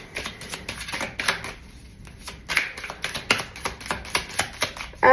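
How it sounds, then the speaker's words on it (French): Tarot cards being shuffled and drawn up close: rapid rhythmic flutters and crisp card snaps in quick bursts, with a brief pause midway before the shuffling resumes. "je vais tirer plus de cartes"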